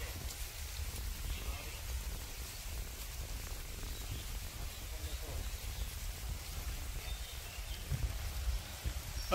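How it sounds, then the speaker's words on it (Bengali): Light drizzling rain falls in a village, giving a steady, soft, even hiss with no voices over it. "এই যে বৃষ্টি গুড়ি গুড়ি পড়তে আছে"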